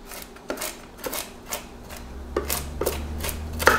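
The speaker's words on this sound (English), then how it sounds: "I'm going to chop up my cranberries and walnuts" Fresh cranberries and walnuts being chopped with a knife on a cutting board: close, irregular sharp knocks spaced about half a second apart, with no voices.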